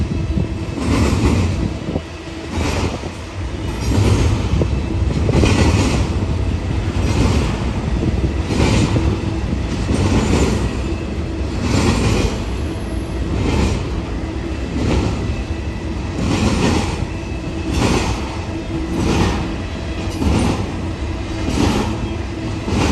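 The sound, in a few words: BNSF intermodal train locomotives climbing Cajon Pass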